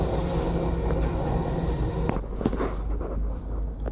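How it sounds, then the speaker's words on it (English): A train passes on a rail line, heard from on board a moving train as a steady loud rumble with low drone and clattering, a whoosh and a few sharp knocks partway through. "And there's a passing train."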